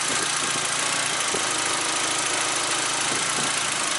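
A Volkswagen MK4 Golf or Jetta engine idles steadily at close range, a continuous mid-pitched hum with faint mechanical ticking and light vibration, no voices over it.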